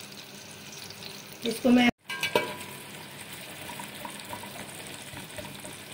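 Finely chopped onion frying in ghee for potato rice makes a steady, even sizzle, with a short clatter and a brief gap partway through; someone speaks a few words.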